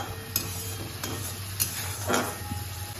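Masala for Bengali-style bhindi masala sizzles softly in a pan after a splash of water, with a few scraping stirs and light clinks of the spoon, close and fairly quiet.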